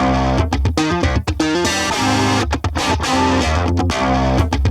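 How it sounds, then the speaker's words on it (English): A heavily distorted, effects-laden electric guitar plays loud chopping chords and stabs with brief gaps, dense and buzzy throughout. "We then get to the main guitar tone of this drop."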